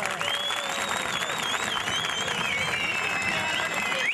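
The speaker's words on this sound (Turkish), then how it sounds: "ona kocaman alkış gönderebilir miyiz" A crowd at an outdoor village music and culture festival applauds continuously, dense clapping with whistles and cheers rising above it.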